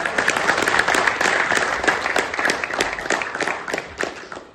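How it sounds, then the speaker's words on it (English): A student audience at Warwick University gives a round of applause, a lively burst of many hands clapping close by that rises and falls in dense waves for several seconds. "Can we have a round of applause for that?"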